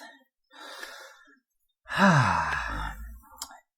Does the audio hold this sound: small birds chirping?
no